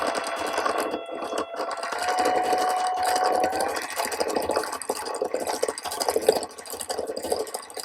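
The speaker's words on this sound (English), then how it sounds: "With the electric ball winder, this is a boy ball winder." An electric yarn ball winder runs with a steady, close motor whir and a light mechanical rattle, holding an even level for the whole stretch with no talking.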